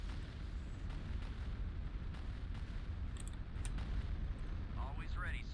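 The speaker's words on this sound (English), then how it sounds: "Bombardment incoming." Bombardment explosions in the space strategy game Empire at War, a dense continuous rumble of blasts and booms with scattered sharper bursts, loud and steady throughout.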